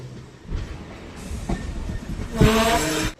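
A DEMU train pulls out of Chinnasalem railway station on the Salem to Vriddhachalam line, a loud close rumble building with wheel clatter and a bright hiss near the end.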